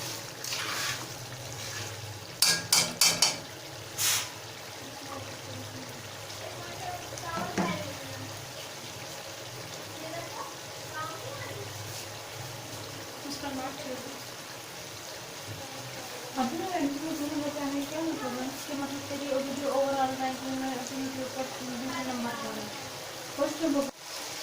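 Karahi masala with tomatoes frying and being stirred in a pan, a soft continuous sizzle with occasional scraping and a few sharp clanks early on, with no talking.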